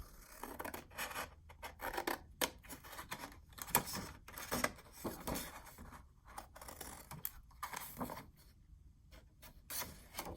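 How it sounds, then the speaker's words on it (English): Scissors cut paper rectangles out for an envelope accordion mini album. Short, crisp snips and rustles repeat irregularly at close range, with no talk. "So these two little rectangles, 1 and 2, we're gonna cut that out"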